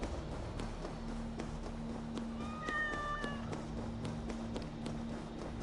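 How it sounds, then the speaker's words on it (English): Cats meowing in a video game set in Asgard while following Freyja's cats, with a few high-pitched mews around the middle over a steady game background hum. "They really got the cats meowing and shit."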